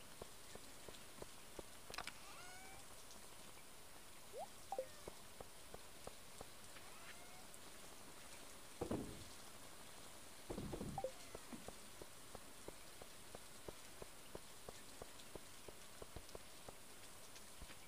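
Rainfall in the farming video game Stardew Valley gives a soft, continuous patter with scattered droplet ticks. It is quiet and steady, with a few brief louder sound effects standing out.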